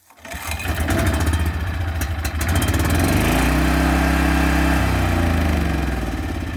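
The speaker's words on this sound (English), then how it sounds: "Who needs a recoil when you got a Yamaha engine that'll start on one pole?" A Yamaha engine is pull-started with a rope wrapped clockwise around it, coughing to life in one pull, then settling into a loud, steady close-up running drone with no talking.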